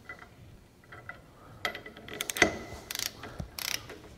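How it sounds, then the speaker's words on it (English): A torque wrench set to 100 foot-pounds tightens a fitting on the high-pressure fuel rail of a 6.0L Powerstroke diesel held in a vise, giving faint metallic clicks followed by a cluster of sharper ratcheting clicks near the end. "Then I'll take my torque wrench, which is set to 100 foot-pounds,"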